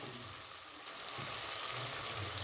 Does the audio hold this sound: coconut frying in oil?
yes